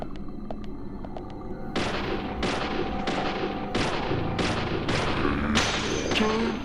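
Bursts of gunfire ring out in the horror video game Deadly Premonition Origins, about seven sharp shots at a steady pace over an ambient game background, close and loud.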